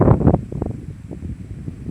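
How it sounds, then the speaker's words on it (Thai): Strong gusty wind sweeps across ripe rice fields at harvest time, a loud buffeting rush that peaks at the start and then settles into a rough, fluttering roar. "ย่ำขึ้นลมกระโชกแรงมาก"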